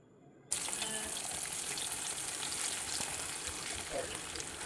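Battered beef pieces deep-fry in hot oil over a medium flame, giving a steady loud hissing sizzle that starts abruptly and carries on unbroken, with faint background movement.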